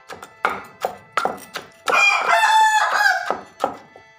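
Outdoors in a rural Thai kitchen, a rooster crows once in the middle of steady mortar-and-pestle thumps, with the pounding continuing right after the call.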